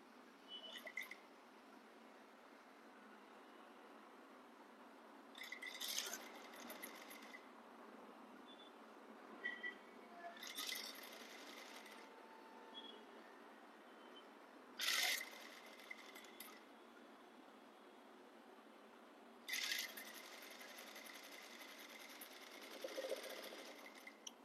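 A sewing machine stitches a flat fell seam on a panel skirt, with several short, faint bursts of stitching separated by pauses of quiet room tone.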